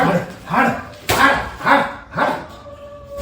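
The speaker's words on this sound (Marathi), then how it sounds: "ही गल्ली तर कुत्री कुणावर पण भुकतात" Dogs bark in a lane, four or five yapping barks in quick rhythm, close and fairly loud, with a voice mixed in among them.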